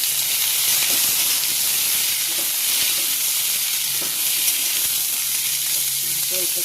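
Potatoes, vegetable stems and sweet potato frying in a wok with panch phoron spices, a steady loud sizzle and hiss of hot oil with occasional soft stirring scrapes, no talking.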